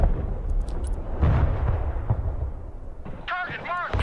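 Deep, rumbling artillery blasts from the Broken Arrow game boom close and heavy, rolling into one another, with a brief voice line near the end.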